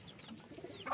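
Chickens clucking at feeding time: a few short, close clucks and squawks over a brief moment, with a louder call near the end.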